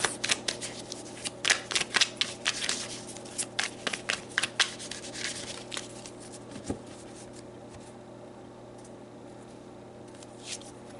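Tarot cards are shuffled by hand in quick riffling, flapping bursts for several seconds, then pulled with softer slides and taps. The sound is close and moderately quiet, with no talk.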